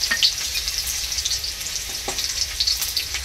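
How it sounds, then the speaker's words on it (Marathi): Crushed garlic sizzles in hot oil as a tempering for a French beans dish, a close, steady frying hiss with sharp crackles and pops scattered through it, with no voices over it. "लसूणची फोडणी द्यायची आहे"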